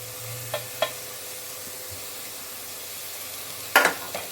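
Grated gooseberry goes into a hot pan for gooseberry rice, giving a soft steady sizzle under a few sharp clinks of a spoon against the pan, with a louder scrape and clatter of stirring near the end.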